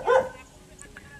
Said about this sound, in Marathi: ह्यांना जरा कसला आवाज आला का भुंकायचं चालू होतं